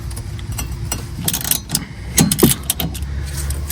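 A ratchet wrench with a 13 mm socket loosens a bolt on a 2014 Chevy Impala, giving quick, close metallic clicking bursts with a few heavier clanks over low mechanical background noise.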